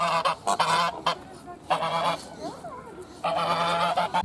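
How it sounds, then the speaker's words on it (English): Several domestic greylag geese honk loudly in repeated bursts at a lake in São Paulo, with brief pauses between noisy calls close by. "Mostly domestic gray-legged geese. And they're gonna be everywhere, and they're gonna be very noisy."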